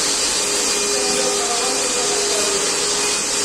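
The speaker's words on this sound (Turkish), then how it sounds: "Burada süpürge yapıyoruz." A steady, loud vacuum cleaner whine runs without a break inside a Volkswagen Caddy, a dense high-pitched roar holding level throughout.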